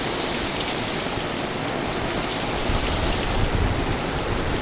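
Heavy rain pounds an old sheet roof during strong wind, a steady dense roar that swells slightly louder toward the end, with no voices.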